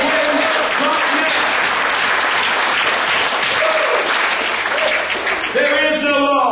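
A church congregation claps hands for God during a sermon, dense sustained applause filling the room with voices and cheers mixed in throughout.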